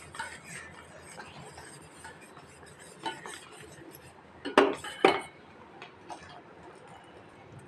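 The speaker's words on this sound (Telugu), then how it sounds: "కొంచెం దగ్గర పడేంత వరకు కలుపుకోవాలి." Custard powder mixture stirred in a pot on the stove until it thickens, for a fruit salad: soft, steady scraping with a few sharper clinks of the spoon against the pot near the middle.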